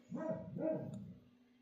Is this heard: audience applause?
no